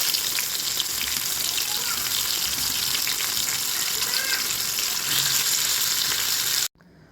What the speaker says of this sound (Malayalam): നമ്മുടെ മീനുകളെ ഓരോന്നായിട്ട് നിരത്തി നിരത്തി നിരത്തി വെച്ച് കൊടുക്കാം അങ്ങനെ ഇതിന് ഒന്ന് ഫ്രൈ ആയിക്കോട്ടെ